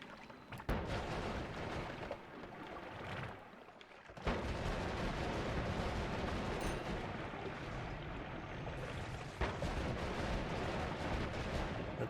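In the Noita video game, explosions go off as several sharp blasts spread over the stretch, each followed by a dense, crackling, crumbling roar of falling debris and particles that lingers between the bangs.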